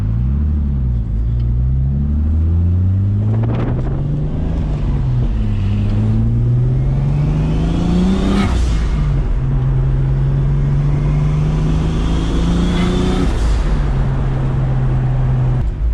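A BMW with a turbocharged, forged M50 engine drives past autumn roads, its exhaust droning loud and close as the engine revs rise and fall through several gear changes, with a steady rumble underneath and no voices.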